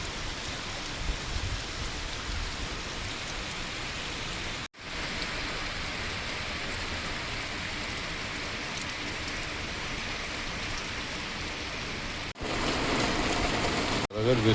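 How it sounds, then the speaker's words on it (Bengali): A sun shower falls over low, waterlogged fields, a steady wash of rain and drops that is moderately loud, briefly cut out twice and a little brighter near the end. "রোদের বৃষ্টি হচ্ছে,"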